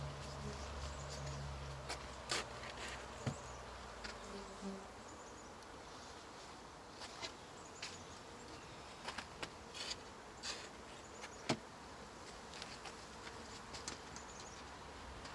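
Honeybees from a newly installed package buzzing around backyard hives, a faint steady hum under scattered clicks and knocks of hive covers being handled.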